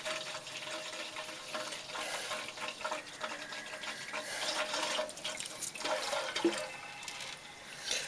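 Water, including rainwater from a rain barrel, pours and splashes steadily into a container, a continuous trickling rush with small drips and gurgles.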